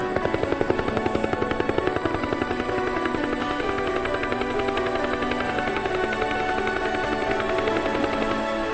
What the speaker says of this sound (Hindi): धीरे धीरे ब्लेड कम रफ्तार से घूमने लगता है तो हेलीकॉप्टर संतुलित रूप से नीचे आने लगता है